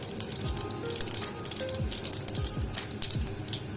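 A spoonful of white cumin seeds sizzling in hot oil in a pan, a close crackling fizz with quick irregular pops and spits.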